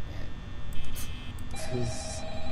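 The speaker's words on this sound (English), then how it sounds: "answer the phone, Mr. Me" A telephone rings in the video game Five Nights at Fattie's, a moderately loud electronic tone that starts partway through over a busy game background, with no talking.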